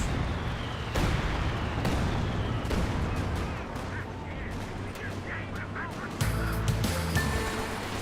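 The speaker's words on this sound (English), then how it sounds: "It's Heavy Mortar Barrage." Heavy mortar barrage in Company of Heroes 2, a series of booming impacts roughly every second over a rumbling battlefield bed, with scattered smaller pops and a low droning layer joining near the end.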